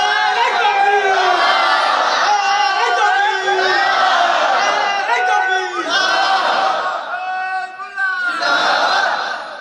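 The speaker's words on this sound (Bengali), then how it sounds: "আর একবার হাত তুলে দেখেন, তাকবীর মারেন, তাকবীর দেন, জোর করে দেন।" A large crowd at a Bengali Islamic religious gathering (waz) shouts takbir in loud unison, voices rising in repeated surging chants that fill the space, with brief dips between calls.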